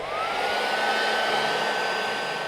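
A torch flame roars steadily and loudly, a constant hissing rush with no breaks, as it heats a ball joint on the powder-coated suspension A-arm of a Ski-Doo XM snowmobile chassis.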